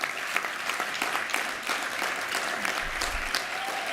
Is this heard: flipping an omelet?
no